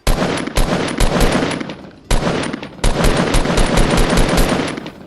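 Rapid automatic gunfire in Fortnite rattles in several loud bursts separated by short pauses, sharp and close.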